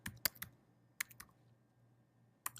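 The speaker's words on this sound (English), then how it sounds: "I'm going to type the internal IP of the unit." Several quick keystrokes on a computer keyboard as an internal IP address is entered for a nearby DVR, clustered in short bursts with pauses between, close and fairly quiet.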